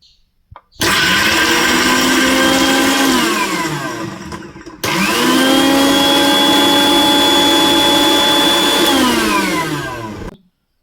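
A mixer grinder pulses twice, grinding a masala of ginger, shallots and garlic with salt for quail fry; a loud close whirring roar that spins up, holds and winds down each time, with no talking.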